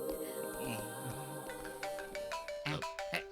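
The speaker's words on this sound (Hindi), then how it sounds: "ये डायमंड रवि अभी क्यों फोन कर रहा है?" A phone rings with an incoming call in a Hindi-dubbed film scene, its melodic ringtone tones repeating over background music near the end.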